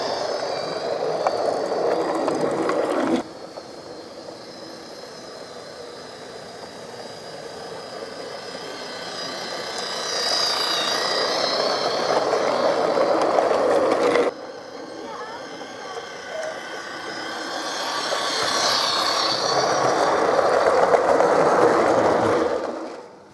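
A model train driven by a 2.4 volt 15-to-1 MFA geared motor hums steadily along its track, a soft continuous whir that rises and falls in level over several passes, with brief breaks between runs.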